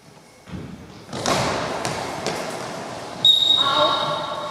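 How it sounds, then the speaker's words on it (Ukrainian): A goalball ball thumps and bounces on a hard floor at a Paralympic goalball tournament, with a faint jingle of bells inside it, while people talk in the background. "А у самому м'ячі, ніби дзвоники, тому він видає певні звуки."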